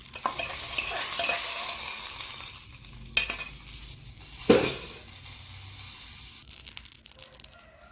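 Mustard seeds, dried red chilies and curry leaves crackle in hot oil for a curd vada tempering, a loud sizzle with stirring scrapes and two sharp bursts partway through, fading slightly toward the end, with no speech.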